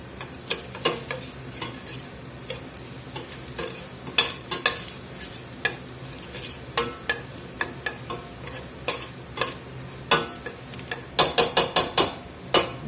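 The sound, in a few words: vegetables sizzling and stirred in pot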